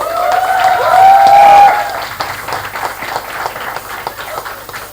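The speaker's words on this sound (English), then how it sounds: "Please welcome all our panelists with a huge round of applause." Audience at a Mumbai book launch claps for the panelists, a moderate patter of hands that continues steadily while a sustained tone rings out early on.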